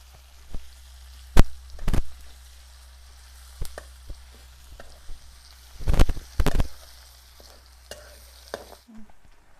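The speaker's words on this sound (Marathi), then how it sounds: "तर आता मी चांगला कांदा परतवून घेतो" Onion sautéed in a pan for Marathi-style amti, with a low steady sizzle under repeated sharp scraping and clanking stirs that come in irregular clusters, close and fairly loud, before the sound cuts off near the end.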